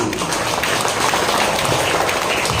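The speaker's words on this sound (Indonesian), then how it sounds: "Tepuk tangan untuk Sari" A Catholic gathering breaks into applause after a personal testimony, a dense, steady wash of clapping heard at moderate volume with a low rumble of room noise beneath it.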